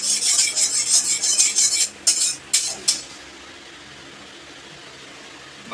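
Metal utensils scrape and clink against a pot as marinated mutton is stirred and fried over high heat, a busy stretch of scraping followed by a few sharp separate knocks, then quiet.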